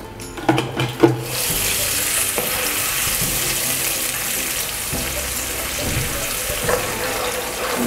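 Garlic-ginger paste sizzling and frying in hot oil, a steady crackling hiss after a few clunks at the start, with occasional stirring clatter.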